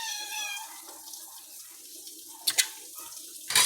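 Water runs from a tap into a bucket at home, a soft steady splashing heard close up, with a couple of sharper splashes or knocks near the end.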